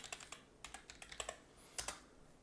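Quick bursts of keystrokes on a computer keyboard, typed close to the microphone in an uneven rhythm of a dozen or so clicks with a brief pause near the middle, heard alone without any voices.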